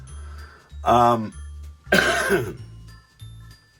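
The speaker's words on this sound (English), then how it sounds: "I don't mean to cough in your ear" Two close, forceful coughs, a voiced one followed by a harsher rasping one, over a low steady hum.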